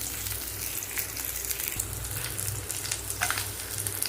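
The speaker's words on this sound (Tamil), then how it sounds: "சின்ன வெங்காயம், பூண்டு இதெல்லாம் போட்டு ஃபஸ்ட்டு ஒரு 5 மினிட்ஸ் நல்லா வதக்கிக்கிட்டு" Shallots and garlic sauté in a hot pan for a Tamil-style chutney, giving a steady, close sizzle and crackle that runs unbroken throughout, with no voices.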